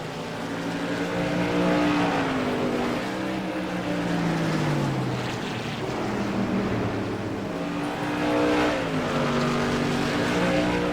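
An SK Modified race car screams around New Smyrna in iRacing, its engine note rising and falling with shifts and corner exits, loud and continuous with no talk.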